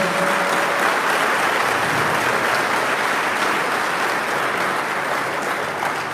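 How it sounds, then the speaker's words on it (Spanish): A congregation in a Catholic church gives a steady round of applause to welcome a former pastor, dense broadband clapping sustained loudly throughout with no talk over it. "pues lo recibimos con un aplauso"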